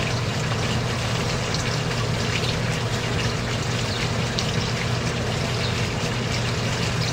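Water poured into rockwool cubes for seed germination, a steady, dense splashing and trickling that stays loud and unbroken throughout.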